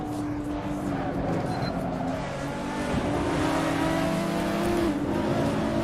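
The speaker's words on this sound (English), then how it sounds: "I heard you revving it hard to get faster." Race car engines rev hard in an Assetto Corsa online race on the Nürburgring, a steady high-revving drone with pitch sweeps through gear changes and faint voices underneath.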